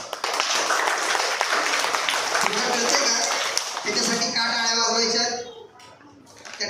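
An audience clapping in a room: a few seconds of dense, close applause that then gives way to a person talking.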